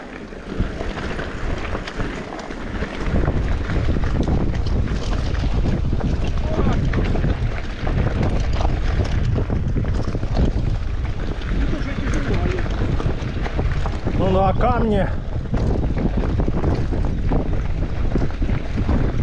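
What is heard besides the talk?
wind noise on a bicycle tour in Crimea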